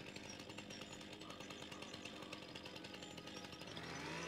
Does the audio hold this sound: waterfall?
no